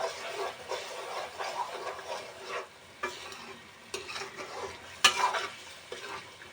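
Chicken pieces frying in a pan with two spoons of ginger-garlic paste are stirred, giving a soft sizzle with repeated scraping strokes and an occasional sharp clink of the spoon, fairly quiet and close.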